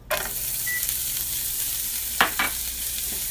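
Shallot sizzling in oil in a just-cleaned skillet, a steady soft frying hiss with a couple of brief stirring scrapes near the middle and end, heard alone.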